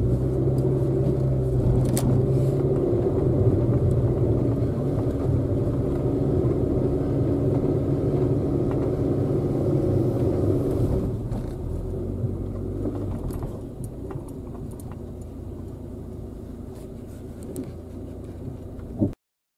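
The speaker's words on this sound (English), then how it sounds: "I did a little car stunting video in the snow before any marks were made at all" A car stunting and spinning donuts on fresh, unmarked snow gives a steady low engine rumble throughout, easing off slightly in the second half, with a sharper bump at the very end.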